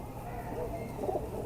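A female pigeon softly cooing close by, one brief low murmuring call with faint background noise.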